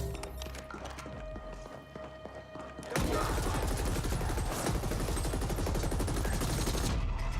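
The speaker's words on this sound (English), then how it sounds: "there was a guy shooting at me from the back" Enemies open fire from behind in The Ascent, a sudden dense fusillade of rapid gunshots that erupts after quieter game ambience and keeps hammering loudly for several seconds.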